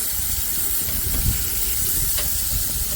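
A beef smash burger patty pressed flat on a grill with a burger press produces a steady loud hiss of sizzling fat, with a low thump partway through.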